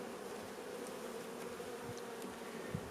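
Honeybees buzz inside a hive in a low, steady drone, close and continuous, with a few individual bees droning slightly louder as they pass nearby.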